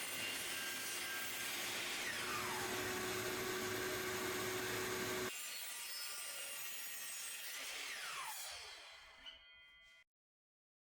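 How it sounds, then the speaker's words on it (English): A miter saw slices through wood being squared for cutting boards, a loud continuous whine and rasp for about ten seconds, pitch shifting partway as the blade runs through the board, then stopping abruptly into silence. "Once the edge is square, use that side along the fence of the miter saw to get another square edge."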